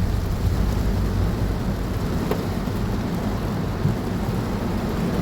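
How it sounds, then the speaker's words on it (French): Steady, dense rain from a supercell thunderstorm with large hail pounds down continuously around a car in Cestas, France, a broad rushing hiss with low rumbling underneath and one sharp impact partway through. "Ah il pleut dans ma voiture."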